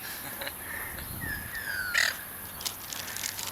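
A noisy bird at a campsite near Coffs Harbour, Australia, gives harsh, crow-like caws and squawky calls, moderately close over steady outdoor background noise, with no talking.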